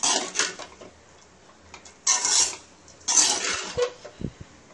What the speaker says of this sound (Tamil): இது நல்லா கிளறி விடவும்